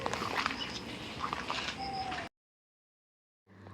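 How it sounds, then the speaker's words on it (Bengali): Birds call in a wooded resort garden at the Panchaban art resort in Santiniketan, with a few brief chirps over steady rustling background noise before a short silence. "কত যে পাখির ডাক শোনা যাচ্ছে"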